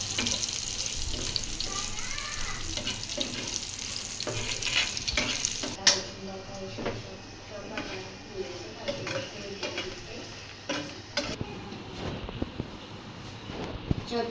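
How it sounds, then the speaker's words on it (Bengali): Dried red chillies frying in oil for potato mash, a steady crackling sizzle with stirring scrapes and occasional sharp clinks of a utensil against the pan. "এখন আলু ভর্তার জন্য শুকনো মরিচ ভাজা হবে।"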